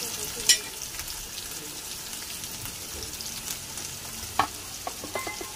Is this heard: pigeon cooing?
no